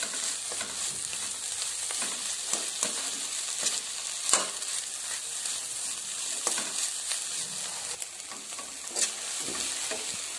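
Beef brain fry cooking down dry in a pan: a soft, continuous sizzle broken by frequent scraping clicks of a spoon stirring, close and fairly quiet, with no talk.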